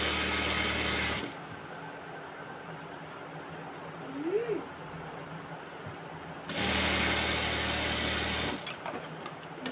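A sewing machine stitches petticoat fabric in two close, steady whirring runs at the start and end, separated by a quieter stretch with faint handling noises.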